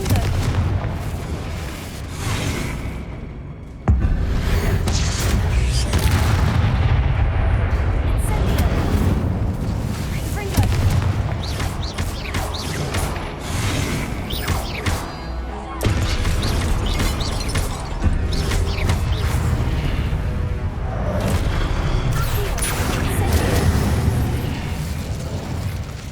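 Confringo spell explosions in the video game Hogwarts Legacy, smashing statues: a dense, continuous run of loud booming blasts and crashing debris that barely lets up, with a sharp jump in intensity early on.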